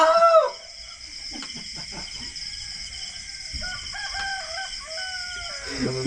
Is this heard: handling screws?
no